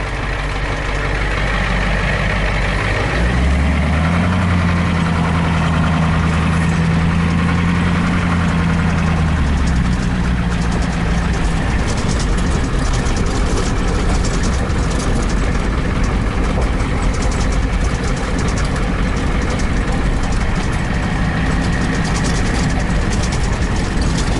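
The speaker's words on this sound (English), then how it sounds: "indirect injected International diesel V8, non-turbo, the pre-power stroke engine" An International indirect-injection non-turbo diesel V8, the pre-Power Stroke engine, powers a van on the road. It gives a loud, constant rumbling drone, with a steady low hum early on that then gives way to broader road and engine roar.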